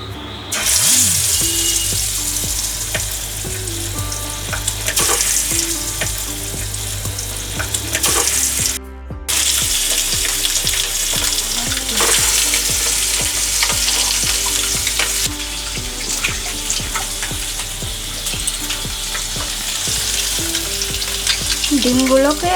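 Whole boiled eggs fry in hot oil and ghee for egg korma, a loud close continuous sizzle with occasional stirring scrapes and bubbling, sustained throughout apart from a brief quiet gap, no one talking.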